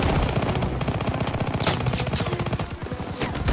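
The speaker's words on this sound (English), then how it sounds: "Everyone open fire!" Dense, continuous World War II gunfire from Call of Duty: WWII, rapid machine-gun bursts layered with rifle shots in a loud, sustained battle din with no pauses.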